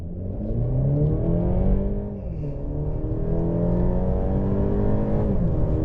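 A 2024 Mercedes-Benz E 350 4MATIC sedan accelerates hard from a standstill in sport mode, its engine heard from inside as a steady loud rising drone with a brief dip at an automatic upshift, then climbing again, without any talking.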